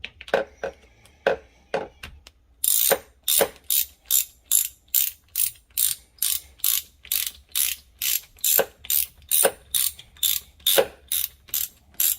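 Ratchet wrench tightening the oil filter bolt on a 2021 Sea-Doo GTI SE 170, a long, regular series of close, crisp clicking strokes after a few softer metallic taps, no talk.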